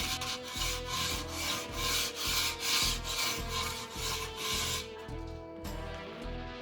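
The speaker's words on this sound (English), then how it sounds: "I started the sanding process using a 120 grit sandpaper to test whether it removes too much wood." Sandpaper of 120 grit rubs back and forth over a wooden guitar fretboard in a steady rhythm of rasping strokes, close and clear, roughly two strokes per second before easing off near the end.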